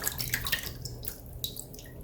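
Water runs from a tap at close range for a couple of seconds before a wet shave, a steady splashing hiss with a few brighter drips and no talking.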